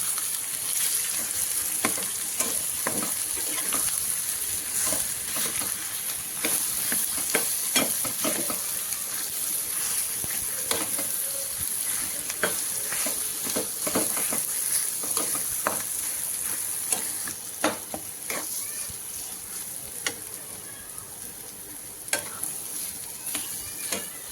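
Diced potatoes tossed with turmeric and red chilli in a hot pan for aloo vada, sizzling steadily with repeated scraping and stirring clatters from a spoon against the pan, close and continuous with no talk.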